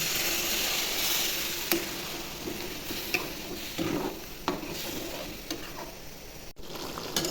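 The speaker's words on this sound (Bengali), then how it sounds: "পিষে রাখা মশলাগুলো দিয়ে ভালো করে ভেজে নেব" Chicken fries with ground spices in a pan: a steady sizzle runs beneath repeated scraping stirs and a few sharp clacks of a spoon against the pan, up close.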